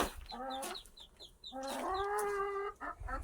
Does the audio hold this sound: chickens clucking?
yes